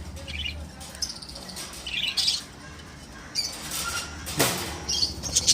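Caged birds squawk and chirp in short, scattered bursts as they are freed from a net, with rustling and handling noises in between and a loud clatter near the end.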